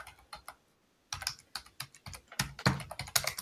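Quick bursts of typing on a computer keyboard, the keys clattering in irregular clusters with brief pauses between runs, close and clear with no talking.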